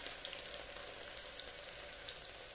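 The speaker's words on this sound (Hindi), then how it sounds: "इसको हल्का सा फ्राई होने देंगे" Spices and chopped garlic fry in oil in a pan for mutton masala, a steady, soft sizzle throughout with no talking.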